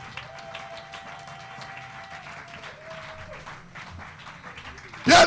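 A congregation at a Sunday church service claps continuously under a voice and a sustained tone, then the applause swells sharply loud at the very end.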